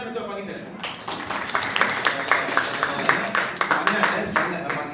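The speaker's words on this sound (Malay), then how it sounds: "Tepuk tangan untuk abang kita." A small audience in an Islamic class on practising the call to prayer claps for a student, scattered hand claps building into steady applause over several seconds, with some talk mixed in.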